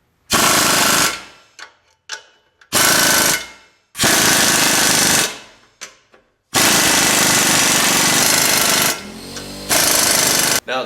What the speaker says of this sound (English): this is where having air tools really helps. You can just start tightening it down.